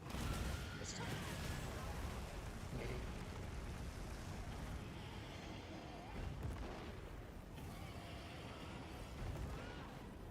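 Booming explosions in a hunting video game roll out as broad, rumbling blasts with repeated sharp bursts over a steady low roar, loud and close, while a voice talks faintly underneath.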